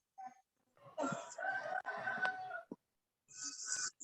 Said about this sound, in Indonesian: Burung, Pak. Burung.